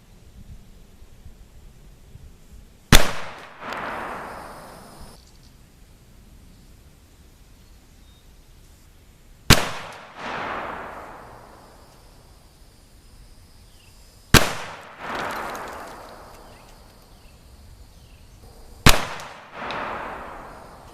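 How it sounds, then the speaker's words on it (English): A Super Walker revolver fires Triple7even black-powder loads with 220-grain bullets at 50 yards, four loud, sharp cracks spaced several seconds apart, each followed by a rolling echo, and no talking. "shoot at 50 yards with a 220 grain bullet"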